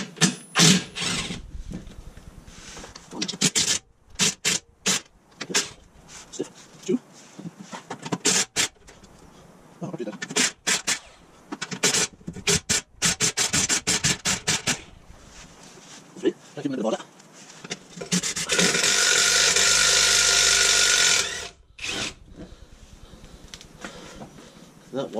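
A ratchet fitted with a 13mm socket loosens the sump plug under a 2.0 diesel bi-turbo VW T5 campervan, brisk bursts of metallic clicking interleaved with someone talking, plus a steady whirring stretch near the end.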